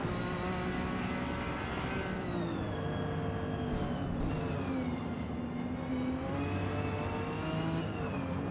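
A 3-liter twin-turbo car with 353 kilowatts accelerates in the racing game Gran Turismo 7, engine pitch climbing steadily through the gears with shifts in between, loud and continuous with no voices.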